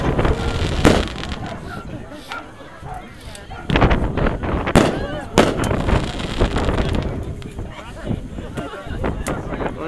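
Firework cakes fired on a hilltop at New Year, a dense run of loud bangs and crackling bursts in irregular clusters, with wind buffeting the microphone and voices of a crowd talking underneath.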